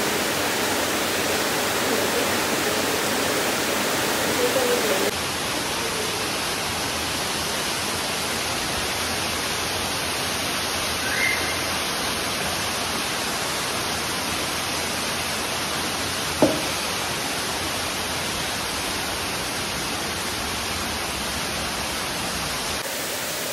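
An underground river and waterfall rush inside a cave, a loud, broad, unbroken roar of water that fills the space throughout, with a faint knock or two standing briefly above it.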